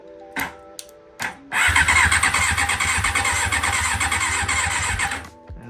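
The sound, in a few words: 1990 Honda CBR600F1 motorcycle engine turning over via starter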